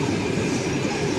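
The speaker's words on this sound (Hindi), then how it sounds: "ये आ गई अपनी ट्रेन, उज़्बेकिस्तान लिखा है इस पर, और ये है Soviet made train, Russian made train" A Soviet-made Russian passenger train pulls into a station in Uzbekistan, a steady loud rolling rumble of wheels and carriages with faint rhythmic clatter, no voices over it.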